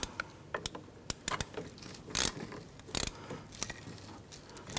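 Metallic clicks, ratcheting and scraping as a rear brake caliper bolt on a 1999-2004 Jeep Grand Cherokee is turned and pried after lubricant spray, coming in irregular close bursts with short pauses between.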